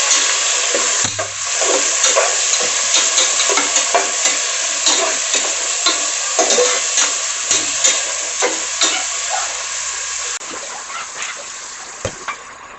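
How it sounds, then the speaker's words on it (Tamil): Onions for chicken biryani fry in hot oil with a loud, continuous hiss, and a spoon stirs through them at a steady rhythm, scraping and clattering against the pan. "நல்லா வதங்கட்டும். வெங்காயம் நல்லா ப்ரௌன் கலரில் வதங்கணும்."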